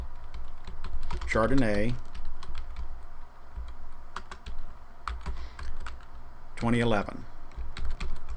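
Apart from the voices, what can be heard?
typing on a computer keyboard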